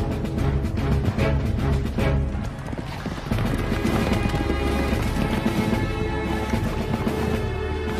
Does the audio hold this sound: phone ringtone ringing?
no